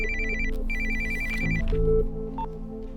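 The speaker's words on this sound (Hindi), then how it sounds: "फोन उठाइए।" A telephone rings in a room, a repeating electronic bell tone sounding in bursts over a steady background of music, with no voices over it.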